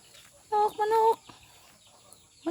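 A chicken clucks in a short burst of two or three calls, fairly close, then quiet background with faint noises.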